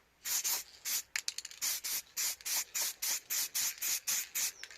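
Short bursts of an aerosol spray can lay a light coat of paint on Suzuki FZ50 motorcycle parts, about a dozen quick, even hisses in a steady rhythm, close and clear with no talking.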